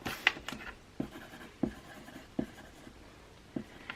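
Pen scratching across small paper name cards as they are handwritten while packing shop orders in a studio, a few quick close strokes and taps, fairly faint and alone.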